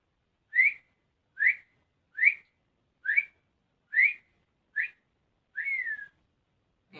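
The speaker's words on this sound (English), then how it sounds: "Can you whistle 7 times?" A person whistles seven short clear notes in an even rhythm, each a quick rising chirp, the last one longer and sliding downward, close and alone in a quiet room.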